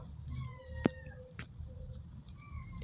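A cat meows once in a cat simulator video game, a short sharp cry, over a low background hum with faint tonal sounds drifting through.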